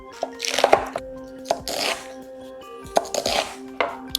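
A knife slices raw cabbage into strips on a cutting board. Three separate bursts of crisp, crunching cuts are heard close up, with short quiet pauses between them.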